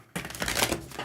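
Round tarot cards riffle and slide against each other in a quick, papery shuffle, close up and fairly soft.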